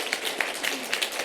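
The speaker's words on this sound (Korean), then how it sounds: "우리 박수로 환영하겠습니다." A church congregation at a Sunday worship service claps in welcome for new members, a steady wash of hand claps with a few sharper individual claps standing out.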